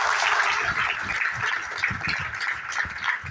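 Dense, even applause from a seated audience at an NTC Milifestyle event carries on steadily at a moderate distance throughout, with no single claps standing out.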